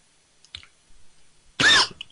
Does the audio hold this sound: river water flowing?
no